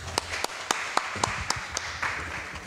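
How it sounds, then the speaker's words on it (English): A sparse, quiet round of clapping from a university law faculty audience at a book launch in Bangkok, with a handful of distinct, evenly spaced claps standing out over soft room noise. "a big round of applause to Professor Switchit"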